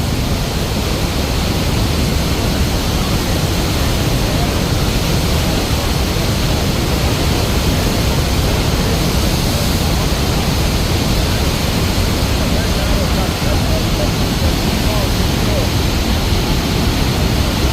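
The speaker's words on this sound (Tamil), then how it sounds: "உள்ளதெல்லாம் பாறைகள் பாறையில் தண்ணி விழுந்து அப்படி செதறி போகுது" Heavy waterfall in Uganda pouring onto rocks, a constant, loud rushing roar of falling and splashing water that stays even from start to finish with no pauses.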